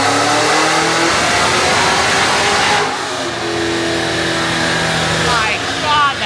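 A loud Cadillac CT5-V Blackwing engine revs hard and steadily on a dyno, dips briefly, then climbs again with rising harmonic whine near the end.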